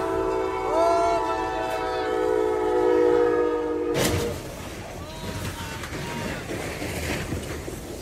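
A train horn blares in several sustained, loud tones, then cuts abruptly into a burst of crashing, rumbling noise as the train strikes a trailer loaded with brand-new cars stuck on the tracks.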